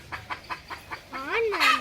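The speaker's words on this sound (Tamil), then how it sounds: "மாலை நேரம் ஆச்சா, கோழியெல்லாம் கத்துது அவங்க வீட்டுக்குள்ளே போகிறதுக்கு." Chickens cluck in short rhythmic calls in the evening, followed by a louder rising squawk, heard nearby and alone.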